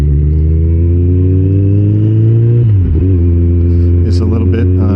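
A Kawasaki Ninja ZX-14R engine drones loudly and close as it climbs in pitch, then dips abruptly at a quick-shifted gear change and pulls again, with wind rush throughout.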